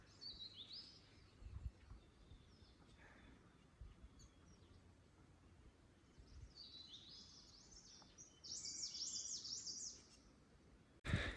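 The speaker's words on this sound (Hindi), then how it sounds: "ऊपर से ये जो पंछी चिड़िया इनकी जो साउंड आ रही है बीच बीच में" Birds chirp and sing intermittently along a mountain trek trail on the Everest Base Camp route between Shivalaya and Deurali Pass in Nepal, with faint distant calls early on and a louder burst of song near the end over quiet ambience.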